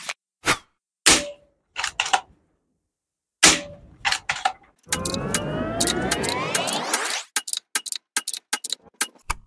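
An airgun rifle fires repeated shots into a breeze block backstop: sharp, close cracks at irregular intervals, with a longer rising whirr midway and a quick burst of impacts near the end.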